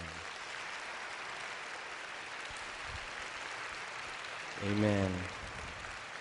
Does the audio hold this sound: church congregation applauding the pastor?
yes